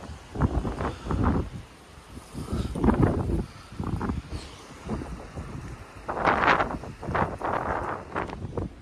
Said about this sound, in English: Comes a big old gust of wind.